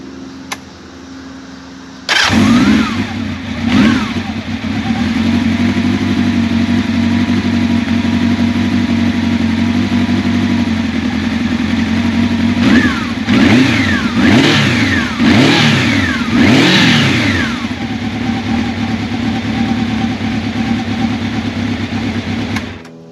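A 1986 Honda Nighthawk 700S motorcycle engine starts up and idles steadily, then gets several sharp throttle revs that rise and fall near the end. It is close and loud, with no talking.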